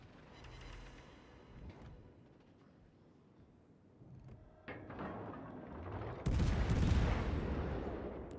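Naval gunfire in World of Warships: Legends, with the ship Brest firing broadsides: low, rumbling shot thumps build from faint to a loud, heavy burst near the end.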